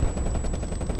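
Rapid automatic gunfire in the Call of Duty Cold War video game, a loud, dense rattle of closely spaced shots filling the whole second.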